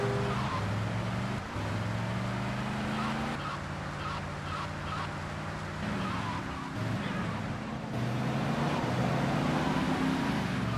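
Heavy road traffic in the GTA video game world with Tommy Vercetti, steady engine drone and passing cars layered throughout, with some voice-like tones mixed into the busy street noise.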